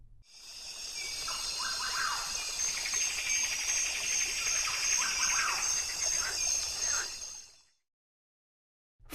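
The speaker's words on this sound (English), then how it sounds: "Frog." Frog calling in a steady, continuous chorus of dense high-pitched trilling that runs for several seconds, close and fairly loud, with no voices, then cuts to silence.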